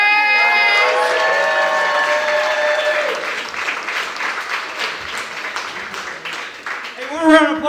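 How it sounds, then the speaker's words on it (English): A comedy club audience bursts into loud applause and cheering for the headliner. It starts with whoops and sustained clapping, then thins into scattered claps. A voice calls out near the end. "Make some noise for Andrew Rivers!"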